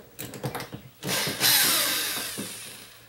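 Corded drill whirring in short bursts, then one longer steady run, as it drives screws into a sagging door, close by and fairly loud.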